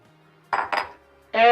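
Metal clinks as a lid goes onto a skillet of zucchini and chicken topped with cheese, two quick clattering knocks followed by a sizzle from the pan.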